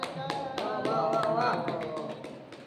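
Sharp hand claps repeat in a steady rhythm over a sustained sung melody, fairly close and moderately loud.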